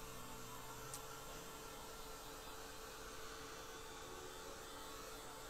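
A hair dryer blows steadily over wet watercolor paint on paper, a constant broadband whooshing hum held evenly throughout at moderate level.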